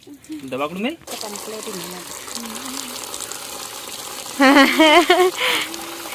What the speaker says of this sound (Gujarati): તો જો આમાં આપણે હવે પાણી નાખી દઈશું ખાસું બધું